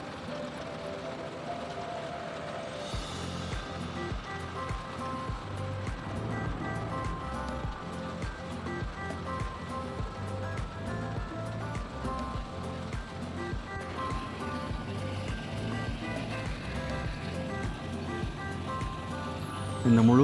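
Tractor harvesting maize on a farm and separating the kernels from the cobs, a steady dense mechanical roar with continuous rattling and clatter that holds at an even loudness throughout.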